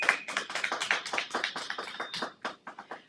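A small audience claps steadily for a few seconds, a dense patter of hand claps that thins out toward the end.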